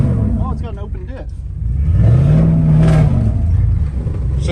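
Car engine revving hard as one wheel spins under open differential during a burnout attempt on a Chrysler 300, a loud sustained roar rising in pitch and holding, with brief voices early on.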